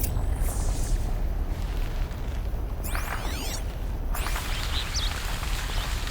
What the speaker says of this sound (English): Why did that warehouse explode?